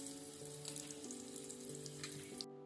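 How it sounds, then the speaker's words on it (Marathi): Semolina-coated bombil fish frying on a tawa over a wood stove, giving a steady, close crackling sizzle with occasional sharp pops and a faint low hum beneath, then cutting off abruptly at the end. "बोंबीलच्या पीसला मस्तपैकी सगळीकडे रवा वगैरे लावून ते फ्राय करण्यासाठी तव्यावर सोडलेले."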